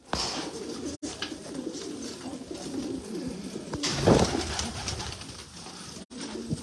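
Kashmiri black pigeons coo in a loft, soft repeated throaty calls close by over a busy background of shuffling and fluttering, with no speech.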